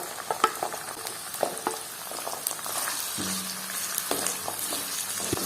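Garlic and chopped ginger frying in a pan while being stirred, a continuous hiss broken by repeated scraping and tapping of a spoon against the pan, with a low hum partway through.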